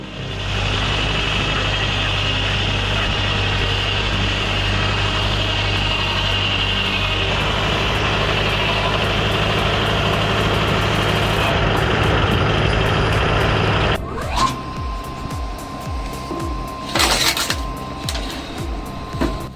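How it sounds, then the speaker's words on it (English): An old belt-driven saw cuts logs at a firewood processing operation, a loud continuous industrial drone and whine that holds steady, then drops away into sharper mechanical clanks and knocks near the end. "this old belt-driven saw still chews through logs like they're nothing"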